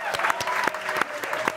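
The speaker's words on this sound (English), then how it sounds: "can we get a round of applause" A small group claps for Team South Africa at the Summer Universiade, sparse uneven hand claps close by with voices talking over them.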